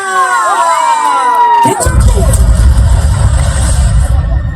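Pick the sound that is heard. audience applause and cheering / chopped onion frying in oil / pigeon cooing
audience applause and cheering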